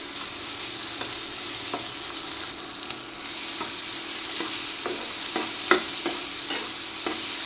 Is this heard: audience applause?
no